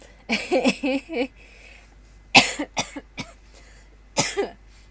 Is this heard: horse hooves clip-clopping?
no